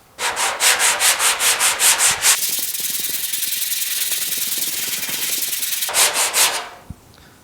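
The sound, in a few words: sanding epoxy on GTO car fender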